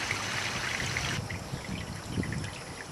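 Water steadily draining and trickling from a pool filter after backwash, a constant close splashing flow with no talk.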